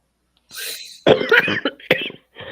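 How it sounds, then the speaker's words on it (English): Several harsh coughs in quick succession, close and fairly loud, with short breaths between them. "It's just me coughing."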